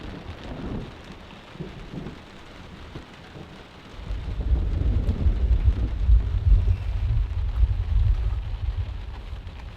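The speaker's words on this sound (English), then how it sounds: "Basically, the rain is stopping." Rain falls steadily on a truck during a strong storm while camping, with low rumbling thunder swelling midway and rolling on continuously, loud and close, with some wind buffeting and no talking.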